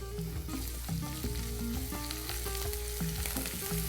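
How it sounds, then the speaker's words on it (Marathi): Green chillies and turmeric fry in hot oil in a pan for a Maharashtrian green brinjal dish, a dense continuous sizzle with spitting crackles, close and steady with no voices. "मिरच्या चांगल्या फ्राय झाल्या आहेत। आता आपण हळद टाकून घेऊया।"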